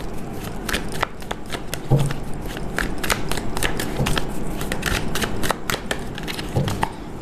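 A tarot deck is shuffled and cards are drawn by hand: quick papery riffles and crisp card snaps come in a steady, close run with no talking.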